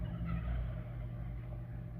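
Turkeys gobbling outside during a trip to have farm-raised Thanksgiving turkeys processed, faint and steady over a low car engine rumble, with no talking.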